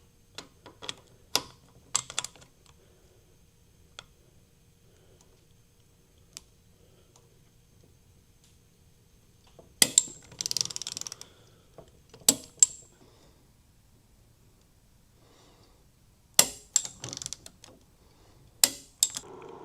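A torque wrench tightening the grip bolts on a Kawasaki Ninja ZX-4R handlebar. Sharp mechanical clicks come in small clusters separated by quiet pauses, close but faint.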